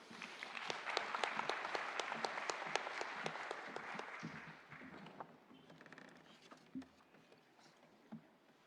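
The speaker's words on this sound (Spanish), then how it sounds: "Recibimos con un fuerte aplauso" A conference audience applauds loudly and steadily for several seconds, welcoming a speaker, then the clapping thins out and fades to a few scattered claps.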